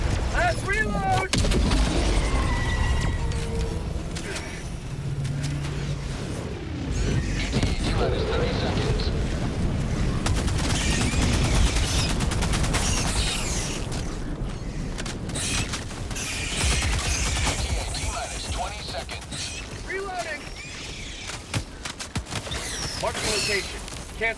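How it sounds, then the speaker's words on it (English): An orbital strike in a video game, heavy booming explosions and gunfire in a dense, continuous battle roar with overlapping blasts, with game voices heard throughout. "Firing orbital strike."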